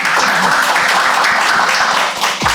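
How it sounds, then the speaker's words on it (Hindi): A burst of audience applause, many hands clapping together at once, loud and dense for a couple of seconds before trailing off. "आपकी ज़ोरदार तालियों के बीच स्वागत करें"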